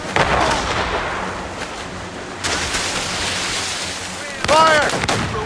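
Naval cannon volleys boom across open water in Assassin's Creed Rogue, loud repeated blasts over a constant wash of waves and wind, with a sharp burst near the end.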